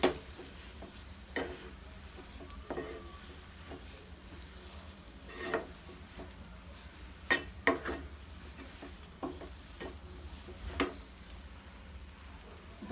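Carrot kesari with cardamom powder being stirred in a pan: soft, scattered scraping and clinking strokes at an uneven rhythm, fairly quiet and close, with no talking.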